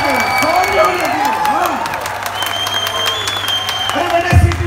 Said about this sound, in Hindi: जोरदार तालियां मन से।